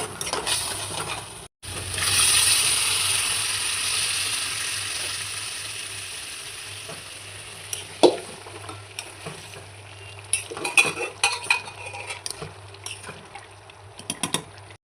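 Ground spices, chilli powder, turmeric and salt sizzle with chopped tomato in a pan as they are stirred. A steady close frying hiss runs under scattered spatula scrapes and sharp metallic clinks, and no one speaks.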